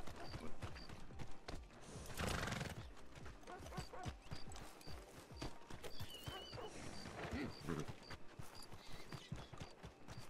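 In the Western video game Red Dead Redemption, a horse neighs loudly while its hooves clip-clop steadily, joined by jingling tack and game background sound, all close and continuous.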